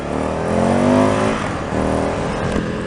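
A 2019 Indian FTR 1200S motorcycle accelerates hard, its engine roaring loud and close with a rising pitch that briefly dips and then carries on strongly, with no voices.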